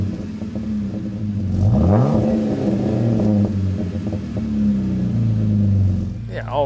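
A Jeep Wrangler with a Flowmaster exhaust drives and revs, its deep engine note rising sharply in one rev then settling into a steady throaty rumble, heard close from inside the vehicle.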